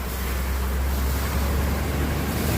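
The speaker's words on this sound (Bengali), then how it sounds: "প্রায় 1 বছর পর আজকে বাইক ধোয়াচ্ছি, সার্ভিসিং এনেছি।" An old, dirty motorbike gets washed with a water spray at a servicing spot, making a loud, steady, close broadband hiss with no pauses or speech.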